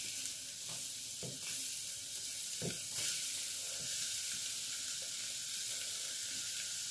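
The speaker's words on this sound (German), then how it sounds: "Die Zwiebel rein." Onion frying in a warm pot on an electric hotplate gives a steady, soft sizzle and hiss, broken by a few dull stirring knocks against the pot.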